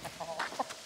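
Chickens cluck briefly and faintly near a rural road in Dōsenbō, Minamiyamashiro village, Kyoto, with a few short, soft calls in quick succession.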